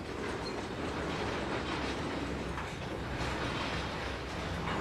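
Train rolling on rails in the railway simulator Trainz 2022, a steady close rumble of wheels and cars with faint rhythmic clickety-clack and occasional wheel squeal, continuous and without talk.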